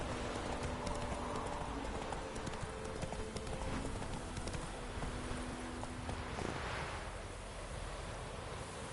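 Hoofbeats from Roach, the horse in The Witcher 3 game, drum in a continuous galloping rhythm beneath a heavy wash of wind and surf-like noise, loud and steady throughout.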